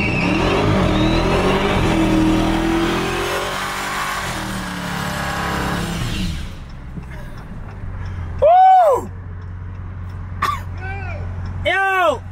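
A Dodge Hellcat engine roars loudly and close for several seconds as it revs and accelerates, then cuts out. After it, people shout and talk briefly over a low idle.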